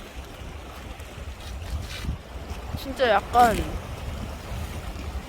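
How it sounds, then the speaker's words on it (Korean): Waves wash along a winter seashore in Gangwon-do, a soft rolling surge beneath steady wind rumble on the microphone, with a few brief spoken words part way through. "파도 소리 들리시나요?"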